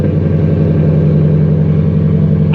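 A Ford Mustang engine runs close by at a steady, rumbling idle, a loud low throb that holds even from start to finish.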